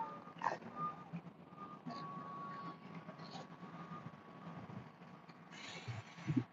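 Xfinity and Comcast utility trucks pull up on a street, a faint repeating reversing beep sounding at a distance over low engine rumble, with a louder burst of noise near the end.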